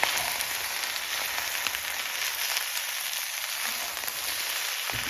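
Bacon and rice fry in a pan with soy sauce and egg mixture, a steady, even sizzle and crackle running throughout with no talking.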